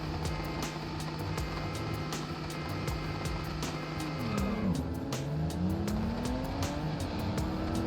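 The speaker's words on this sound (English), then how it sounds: "Grinding the gears." A race car in the BeamNG driving game revs hard at a race start with gears grinding, its engine pitch sweeping up and down continuously and loudly, with tire noise over the steady roar and no speech.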